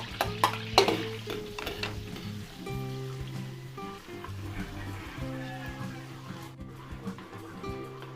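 Garlic sizzles in margarine in a pan, with a soft steady frying hiss and a few sharp clinks and stirring scrapes close by, and some voices at moments.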